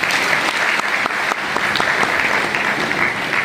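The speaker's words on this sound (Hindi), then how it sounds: "जोर से ताली बजाइए।" Audience applause at a motivational speech at a Brahma Kumaris event in Tinsukia: dense, loud, sustained clapping from many hands, continuous throughout with no talk over it.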